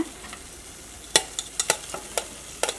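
Wilted papaya being added to a clay pot for a curry and stirred, a few sharp scrapes and knocks of the spoon over a quiet sizzle, no voices.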